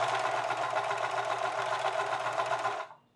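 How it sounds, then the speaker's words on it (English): A sewing machine runs steadily while double stitching the front pocket area of a pair of pants, a fast even close whir that cuts off abruptly near the end. "I do like to double stitch just for a bit of extra strength in this area."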